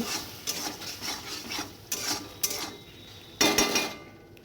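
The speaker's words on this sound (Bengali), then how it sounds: "জিরে বাটা দেওয়ার পর আবার নাড়াচাড়া করে নেব" Cumin paste being stirred in a cooking pan, with a series of close, rasping scrapes of a utensil against the pan in irregular strokes and a louder scrape near the end.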